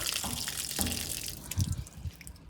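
Running water gushes steadily from a tap, with splashing and gurgling as bottles fill, no voices.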